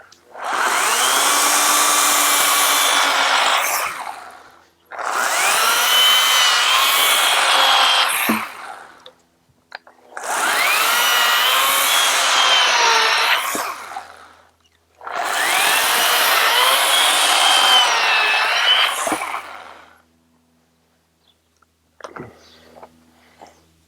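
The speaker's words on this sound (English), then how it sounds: "So this electric chainsaw has been a beast." An electric chainsaw whines loudly through four long cuts, each several seconds, with short pauses between, then a few light clunks at the end.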